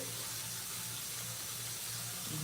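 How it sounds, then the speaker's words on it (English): Tap water running steadily into a sink during a nighttime skincare routine, a constant close hiss with no talking. "I've been running the water because my water takes, I don't know why, it takes a hot minute to get"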